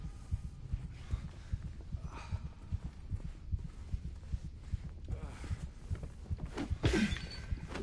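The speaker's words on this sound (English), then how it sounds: "The sound is distorted because his heartbeat is overpowering everything." A pounding heartbeat in the Silent Hill 2 Remake, deep rhythmic thumps repeating steadily and overpowering a muffled, distorted background, with one louder swell near the end.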